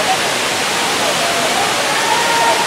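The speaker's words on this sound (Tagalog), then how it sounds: "So ngayon medyo malakas yung agos ng tubig." Rushing water of Hinulugang Taktak Falls in Antipolo, swollen after rain, roars in a dense, steady wash, pouring without a break.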